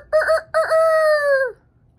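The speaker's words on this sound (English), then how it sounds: "There's a rooster." A loud rooster crows once, close by, a clear drawn-out call that rises and then trails off, with a brief clipped start of another at the very end.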